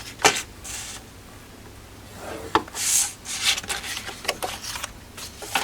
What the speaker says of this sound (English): We're placing that 1/2 inch score line lengthways down the long side of our pinwheels.